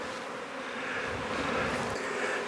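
Honey bees buzz around an opened hive during a hive inspection, a steady and fairly close droning hum that holds even throughout with no talking.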